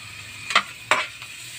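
Ginger and seasoning are stirred in a buttered pan with seashells, giving a soft steady sizzle with three or four brief scraping stirs.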